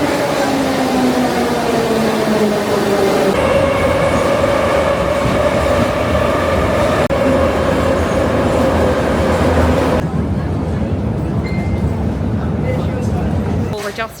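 An underground Tbilisi metro train runs with a loud, continuous roar and rumble, with wheel squeals and whining tones rising and falling over the steady clatter.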